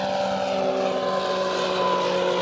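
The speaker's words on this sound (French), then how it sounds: "Un petit hélicoptère." A small helicopter flies overhead near an outdoor driving track, giving a steady, droning rotor hum with a constant engine whine that holds evenly at moderate loudness throughout.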